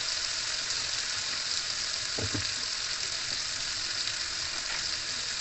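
Potatoes and pointed gourd fry in oil in a small wok, giving a constant, dense sizzling hiss with a couple of brief low knocks partway through.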